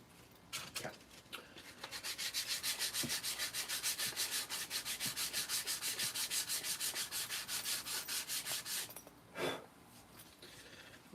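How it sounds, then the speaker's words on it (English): Hand sanding during bag crafting: rapid, even back-and-forth strokes of abrasive paper, close and steady for about seven seconds, framed by a few scattered rubs and taps before and after. "And hopefully I don't have to sand this too much, but I have to."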